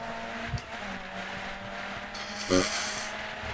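Car engine in the racing video game Grid 2, a steady low drone under rasping, scraping noise, with a louder hissing burst near the end.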